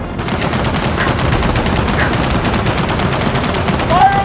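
Machine gun fire in the Gears of War 4 campaign, a dense, continuous rapid rattle of shots that stays loud and evenly paced throughout.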